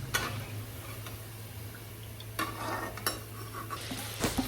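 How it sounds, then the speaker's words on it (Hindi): Leftover malpua batter frying in hot oil, a soft steady sizzle with occasional light clicks and taps of a utensil against the pan, close by. "जो बचा हुआ बैटर था मैंने उसको भी तेल में डाल दिया"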